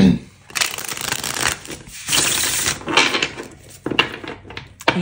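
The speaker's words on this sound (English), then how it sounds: "we're going to do a shuffle, and we're just going to get a couple cards for each card" Tarot cards riffle and slap through several shuffles in bursts, close and crisp, with short pauses and a voice talking lightly between them.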